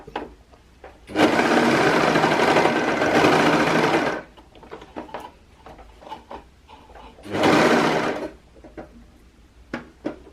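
A sewing machine stitches a pair of pants, closing a seam opening in two loud whirring runs, a long one and then a short one, with quieter handling clicks and movement between them.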